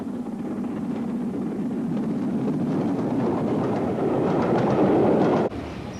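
A train rolls steadily along the rails near Glenfinnan, Scotland, with a continuous rumbling roar and faint rhythmic clatter, building slightly before a sudden drop near the end.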